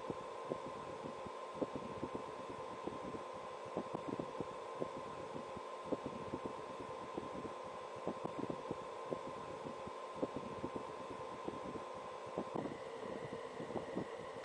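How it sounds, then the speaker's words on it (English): A small fan runs inside a homemade juice-carton air cooler, making a quiet, steady hum with a faint rhythmic ticking pulse, heard alone and close. "Ton of airflow, smooth, quiet fan."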